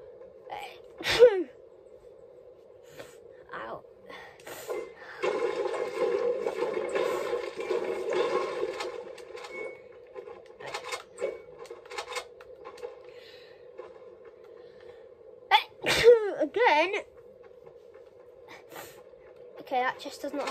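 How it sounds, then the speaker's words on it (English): Two sharp, loud human sneezes, one near the start and one later, heard close among breathing, rustling and a steady low electronic hum from a game setup. "Okay, I'm gonna sneeze."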